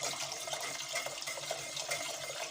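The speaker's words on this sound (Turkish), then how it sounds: "Şimdi 1 litre soğuk suyumuz var. Onu ekliyoruz." Cold water, one litre, poured into a mixture in a home kitchen, a steady broad splashing pour running continuously and fairly loud with no talk.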